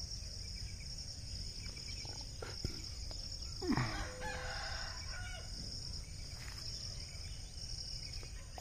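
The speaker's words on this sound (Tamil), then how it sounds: "சேவல் கூவும் இனிய சப்தத்துடன்" A rooster crows at dawn in a coconut grove garden at Thandalkaranpatti near Dindigul, one clear crow standing out over a steady insect drone and soft bird calls.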